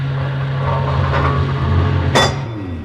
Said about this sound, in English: the sound you can hear is the solar generating plant.